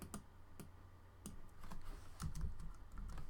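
Quick keystrokes on a computer keyboard, a handful of crisp clicks spaced irregularly over a low steady hum, close and fairly quiet.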